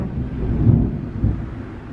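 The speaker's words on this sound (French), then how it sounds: "Oh c'est l'orage, je pensais pas qu'ils allaient faire de l'orage ce soir" Distant thunder from an evening thunderstorm rolls low and heavy, swelling in a couple of deep rumbling surges with no voices over it.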